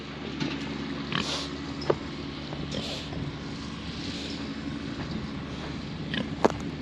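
Pigs grunt at a farm wallow, a few soft snorts and oinks scattered over a steady low engine-like drone, with brief clicks and shuffles nearby.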